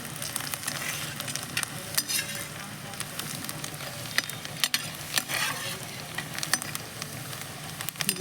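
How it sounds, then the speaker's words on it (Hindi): Onions frying in a pan for a jackfruit curry, giving a steady close sizzle with scraping stir strokes throughout and no voices. "देखिए प्याज भून चुकी है।"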